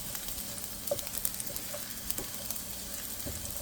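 Garlic sizzles in a pan with oil, a soft continuous hiss broken by small pops and crackles, close but fairly quiet, with no voices.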